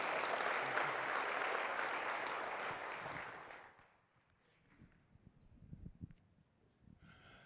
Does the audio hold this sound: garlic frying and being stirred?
no